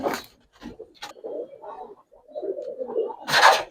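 Giribaz pigeons in a loft give soft, close throaty coos in short runs, with a couple of sharp rustles or wing flutters at the start and end.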